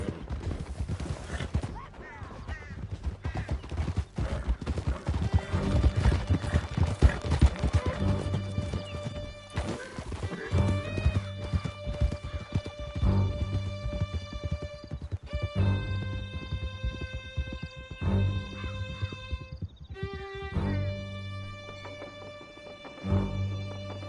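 Horses gallop hard through a canyon in Red Dead Redemption, a fast, loud drumming of hooves with occasional neighs, backed by a tense musical score and some shouted talk.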